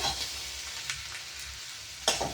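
Onion with ginger-garlic paste frying in a pan for a fig (athikkai) stir-fry, a soft steady sizzle with a few brief stirring scrapes, one sharper clatter near the end.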